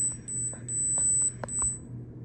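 A prototype alarm sounds a high, thin electronic tone in two short beeps over a low steady hum, fairly quiet in a room.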